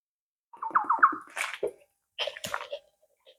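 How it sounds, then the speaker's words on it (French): Gulping and slurping from a water bottle while drinking, a handful of quick wet swallows followed by a short splashy gurgle, close and fairly quiet with no talk. "quand je bois, ça fait toujours des bruits bizarres"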